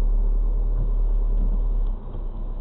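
A car pulls away and drives along a snowy road, its steady low engine rumble filling the cabin close-up, easing slightly near the end.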